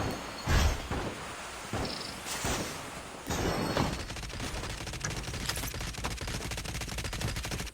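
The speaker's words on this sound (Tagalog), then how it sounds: "ayun, may bumabaril dito." Rapid bursts of gunfire crackle through a shooting video game, fusillades and machine-gun rattles overlapping at close range in a continuous, dense barrage.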